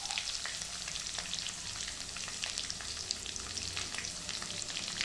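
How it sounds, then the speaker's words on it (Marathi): Crushed garlic frying in a pot for dal, a close, dense crackling sizzle with quick sputtering pops running evenly throughout. "आता टाकते लसण. लसण मी आता थोडासा ठेचून घेतला"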